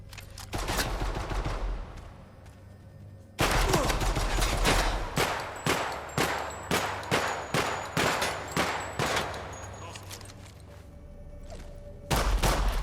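Video game gunfire bursts out in rapid automatic volleys, then a run of evenly spaced heavy blasts like launched grenades, loud and close with brief gaps between.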